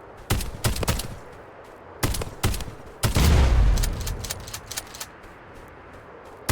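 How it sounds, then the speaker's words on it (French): Gunfire in the video game Escape from Duckov: a few sharp single shots early on, then a louder, longer burst around the middle that trails off, followed by scattered quieter shots. "Je tire des cartouches hyper importantes."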